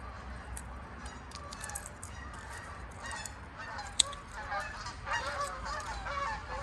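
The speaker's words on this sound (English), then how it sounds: "Got some geese flying south for the winter." Geese honk faintly as they pass overhead, a scattered series of calls from a distance over quiet outdoor background noise.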